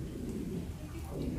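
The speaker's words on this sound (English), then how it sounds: "It's raining." Steady rain falling outside a house in Liloan, Cebu, as a continuous soft hiss with a low rumble beneath it, with no voices.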